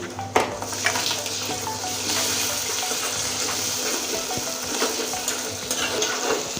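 Cumin paste goes into chicken masala frying in a pan, giving a steady close sizzle and crackle with scraping stir strokes against the pan throughout, no voices.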